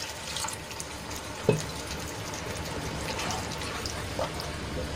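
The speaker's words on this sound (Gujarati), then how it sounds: "તો અહીંયા હું 1 ગ્લાસ જેટલું પાણી એડ કરું છું." A glass of water poured into a simmering vegetable gravy in a home kitchen, giving a soft, steady splashing wash with one brief clink early on, moderately quiet throughout.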